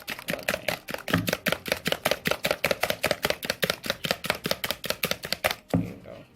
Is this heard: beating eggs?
yes